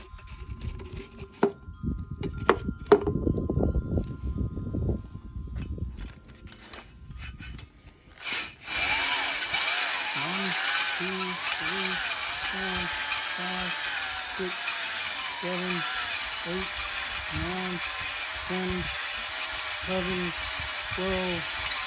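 A cylinder hone with stones wetted in gasoline works inside an Audi 2.0 engine cylinder. A few clunks of handling are followed by a loud, steady motor whine that pulses in even rhythmic strokes.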